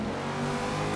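Ford F-100 pickup truck engine in Forza Horizon 2 revving steadily and loudly, a continuous mid-pitched drone with a strong low hum and no talk over it.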